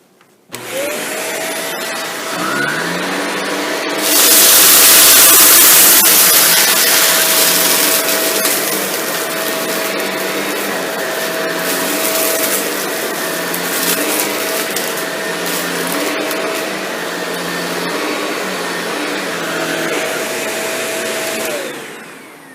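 A Shark NV682 upright vacuum cleaner runs with a loud, steady motor whine and airflow roar, rattling loudly as it picks up beans, lentils, dust and pet hair on a floor, with no talking.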